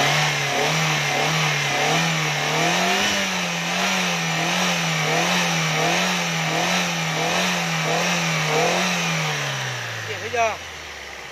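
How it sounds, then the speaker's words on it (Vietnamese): A 2003 Daewoo Lanos car engine revs up and down in repeated close, loud cycles over a steady running drone, then winds down and settles near the end. "Máy móc nổ cực chất nè, test cho anh chị coi phần máy nhá."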